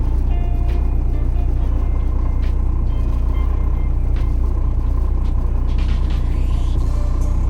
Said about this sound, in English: I noticed the idle even came up just a little bit